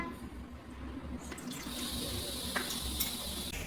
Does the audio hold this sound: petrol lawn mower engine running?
no